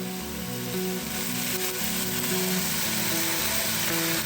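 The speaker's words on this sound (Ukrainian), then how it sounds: "відправляю на сковорідку тушкуватися" Steady sizzling of chicken fillet frying in a pan, a constant crackle with a low background hum and no talking.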